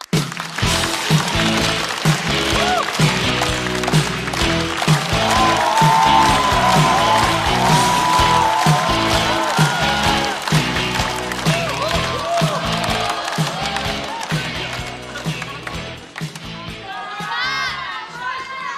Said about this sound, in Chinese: 掌声欢迎秋月